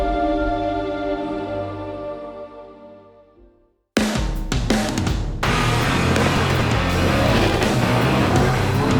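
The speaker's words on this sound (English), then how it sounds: "Third pair, right lane, I'm racing Corey, and he's in a black Thunderbird." A drag race car engine rumbles and fades to near silence. Then a sudden loud burst erupts with crackling revs as cars launch, including a black Thunderbird, and a roar stays sustained and close.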